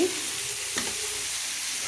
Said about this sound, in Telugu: చూడండి చక్కగా అయిపోతుంది కదా ఫ్రై